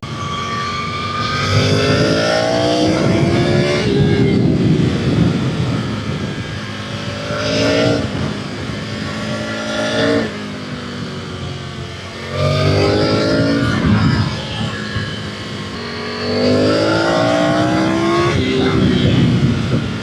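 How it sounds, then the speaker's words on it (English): A Triumph Tiger 900 Rally Pro motorcycle on road tyres cruises at motorway touring speed, its engine droning loud and steady with rising and falling pitch through gear changes, wind roar mixed in throughout. "I'll just show you what it's like on the motorway at touring speeds."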